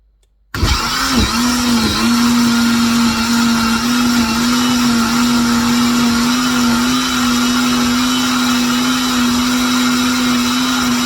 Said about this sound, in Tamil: கொஞ்சம் தண்ணி விட்டு இதை அரைச்செடுக்க போகிறேன்